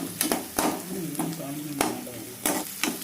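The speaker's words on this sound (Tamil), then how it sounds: "இது வந்து ஃப்ரைடு ஆனியன் இது வந்து லாஸ்ட்டில் நம்ம வந்து ரைஸ் மேலே தூவுறதுக்காக இதை பொரிக்கிறோம்" Onions frying in hot oil for an onion rice topping, a steady sizzle broken by sharp stirring clacks against the pan at irregular intervals, close and moderately loud.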